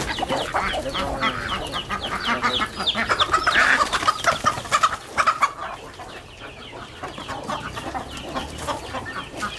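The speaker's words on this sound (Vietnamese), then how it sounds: "Anh Thơm với chú Dũng đang bắt gà nha." Chickens cluck and squawk in a busy, overlapping flurry while being caught on a farm in Vietnam's northwest highlands, with the commotion loud and close, rising mid-way, then easing to scattered clucks.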